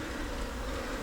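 Calm honey bees buzzing at an open hive during a frame-by-frame inspection, a steady close droning hum with no break and no voices.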